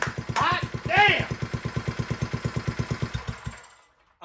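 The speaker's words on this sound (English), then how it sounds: "she's idling, baby! She's smoking a little, but she's idling." A 1950s tiller engine with a Mikuni carburetor idles in quick, regular chugging pulses, with someone shouting over it at the start, before the engine cuts out and goes quiet.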